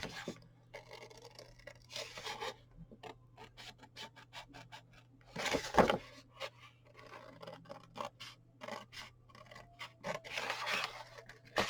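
Scissors cut and snip through a foil sheet for a chocolate gift box, with a close, quiet series of crisp crinkling snips and scrapes spaced irregularly across the clip.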